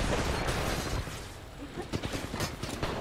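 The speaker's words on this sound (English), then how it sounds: "They have a million mini guns." Minigun fire in a first-person shooter game crackles in dense, rapid bursts, with a sustained stream at first and then choppier volleys, fairly close and mixed with game noise.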